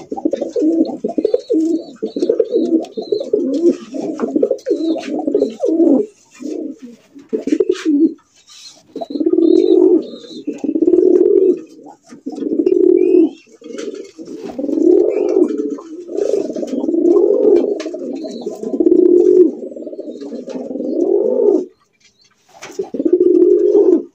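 Pigeons coo in a close, steady run of low rolling calls, pausing briefly now and then, with faint chirps above; these are red-coloured fancy racer and golla giri pigeons in a breeding loft where birds are sold.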